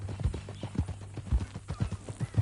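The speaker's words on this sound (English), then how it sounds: "That a new horse?" Horse hooves clip-clop in Red Dead Redemption 2, a brisk uneven series of close, distinct hoofbeats at a walking pace, with no talk.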